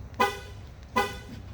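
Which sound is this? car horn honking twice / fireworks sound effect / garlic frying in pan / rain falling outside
car horn honking twice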